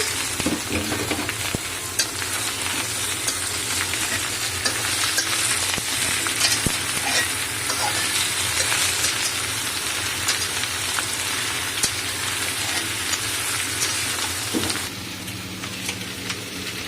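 Ridge gourd stems and potatoes frying in a pan after ginger-garlic paste, a loud continuous sizzle with occasional stirring scrapes, dropping off sharply near the end.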